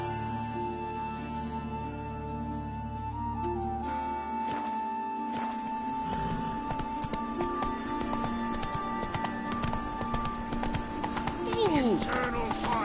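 A horse in The Witcher: Wild Hunt breaks into a gallop, rapid hoofbeats building after a few seconds of music and continuing steadily under the game soundtrack, with voices talking.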